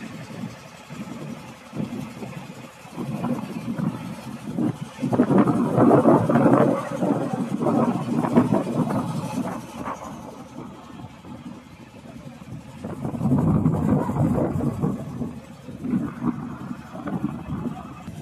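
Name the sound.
boat engine on Ganges river near Mayapur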